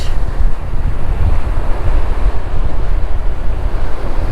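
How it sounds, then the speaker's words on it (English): Strong wind roars across the microphone over crashing surf at a beach, blowing sand across it, a constant low rumble with no voices. "If you can't tell how windy it is by looking at this surf right here"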